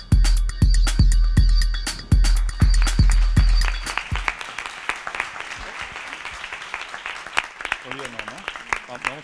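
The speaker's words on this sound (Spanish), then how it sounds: "aunque me aplaudís a mí" Audience applause at a Madrid education conference, sharp dense claps for about four seconds that fade into scattered claps, followed by someone speaking.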